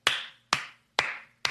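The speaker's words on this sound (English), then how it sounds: "Let me give her a clap in a closet." Four separate hand claps in a small closet, evenly spaced about half a second apart, each sharp and close with a short boxy ring dying away, no talking.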